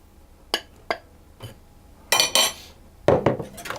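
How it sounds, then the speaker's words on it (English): Eggs and flour mixed in a bowl for a coconut and jam sponge: sharp utensil clinks against the bowl, a few isolated taps, then louder clustered scraping knocks near the end, close and without talk. "So we mix these together one at a time until they're all fully combined."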